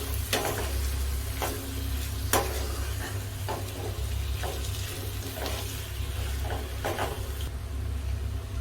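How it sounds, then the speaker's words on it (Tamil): Chicken and potato curry sizzling in a hot frying pan while a utensil stirs and scrapes it, with sharp clinks at irregular intervals, no talking. "ஆட் பண்ணிவிட்டு இதை வந்து நம்ம நல்லா மிக்ஸ் பண்ணி விடலாம்."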